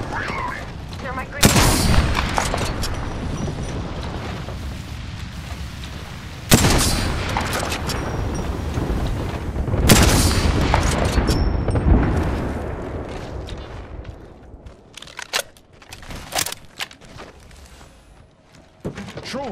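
Grenade explosions and gunfire in Apex Legends: several loud booming blasts separated by stretches of rattling shots and battle noise, close and heavy throughout.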